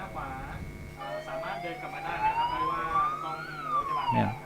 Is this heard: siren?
yes